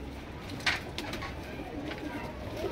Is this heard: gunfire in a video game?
no